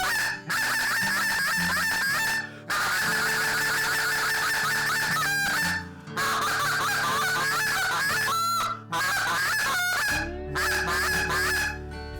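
A Tim Grounds Halfbreed goose call is blown to imitate geese, giving loud, close honks and clucks in rapid bursts separated by brief pauses.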